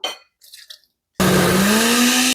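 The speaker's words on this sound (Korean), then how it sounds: "잘 안 갈리니까 조금씩 추가해 가면서 갈아보세요" A blender grinding chickpeas for hummus: after a few brief clicks and knocks, the motor kicks in with a loud, sustained whirring roar, its pitch rising slightly as it runs, close by.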